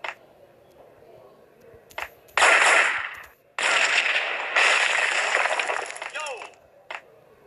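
Rapid gunfire erupts in the mobile shooter game Max Payne Mobile, with two loud sustained bursts of crackling shots separated by a short pause and scattered single pops around them, close and dominant.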